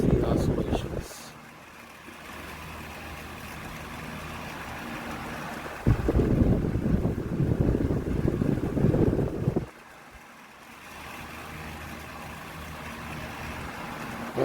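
Air King 16-inch commercial desk fan, model 9106A from 2005, running steadily with a broadband whoosh that swells louder for a few seconds and then falls back as the head oscillates toward and away.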